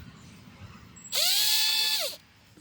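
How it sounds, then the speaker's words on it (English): A power drill running down a part on a Poulan Pro push mower gives one close, loud whirring burst of about a second, rising quickly to speed and winding down at the end. "Now I am going to use the drill"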